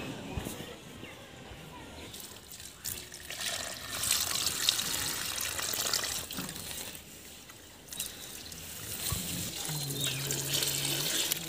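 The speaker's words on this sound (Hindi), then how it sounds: "तो अभी सारे में हम ना पानी ला कर डालते हैं।" Water poured and splashing onto garden plants and flower pots in a hot, sunny spot, a rushing trickle that rises and falls over several seconds, with a voice speaking over it.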